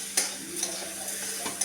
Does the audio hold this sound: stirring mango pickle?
yes